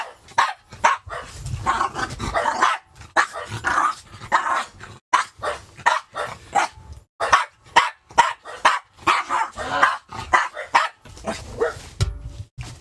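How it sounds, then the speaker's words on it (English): Several dogs bark repeatedly and loudly at close range, in uneven bursts of sharp barks with a few growls and yips mixed in, continuing almost without pause. "Just sorry about the dogs"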